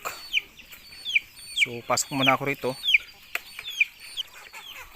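Backyard chickens cluck repeatedly around their coop while someone talks briefly nearby, the short bright calls continuing before, under and after his voice.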